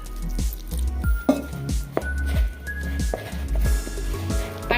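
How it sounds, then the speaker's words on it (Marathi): Water added little by little to fenugreek paratha dough being kneaded, giving repeated wet squishing and squelching sounds with small splashes at an uneven rhythm, close up and alone. "आता यात आपण थोडं थोडं पाणी घालूया।"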